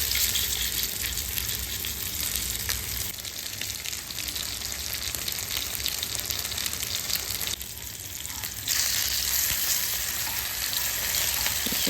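Fish fries in hot oil with curry leaves, giving a continuous, close crackling sizzle that stays dense throughout, with one brief softer patch before it picks up again.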